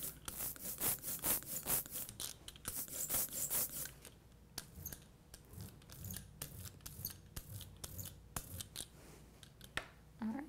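A linoleum printing block being inked, with a roller scraping and rolling in quick repeated strokes that are louder at first, then softer and more spaced out.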